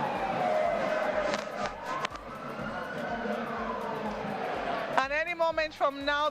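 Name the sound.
sirens of presidential outriders wailing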